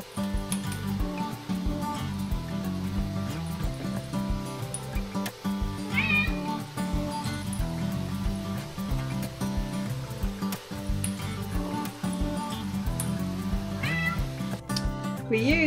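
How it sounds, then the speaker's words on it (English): A cat being walked outdoors on a house-sitting outing meows a couple of times, brief calls rising over a steady background wash of outdoor noise. "A very happy cat."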